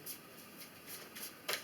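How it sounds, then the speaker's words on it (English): Tarot cards are shuffled by hand, a few soft riffling, flicking bursts in a loose rhythm, close by and quiet against a faint background hiss. "Shuffle."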